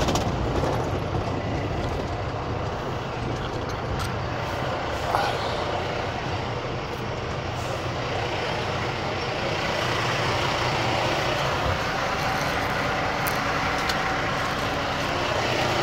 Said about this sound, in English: while I'm driving my truck